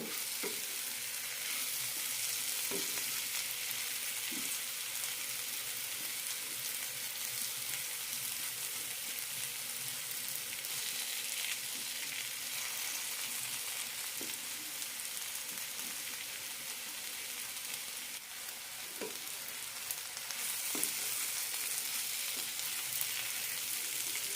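Sliced colocasia (taro) fries in a pan, giving a steady, close sizzle and crackle that continues evenly with occasional soft stirring and turning sounds and no talking.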